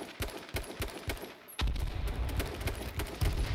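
Gunshots in the online shooter H1Z1, a run of sharp, distant cracks and bursts spaced through the clip, then a louder, denser stretch of firing rumbling closer.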